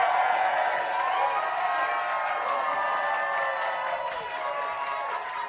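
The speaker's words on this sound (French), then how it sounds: "Faites un tonnerre d'applaudissements pour la drag queen Samy Landry!" A crowd at a concert show in Montréal applauds and cheers for drag queen Samy Landry, a dense, steady wash of clapping and whoops that holds at an even level before easing slightly.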